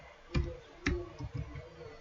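A handful of soft computer keyboard key clicks, close and quiet, with two distinct taps followed by a couple of lighter ones.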